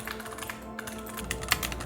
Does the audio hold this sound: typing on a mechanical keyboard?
yes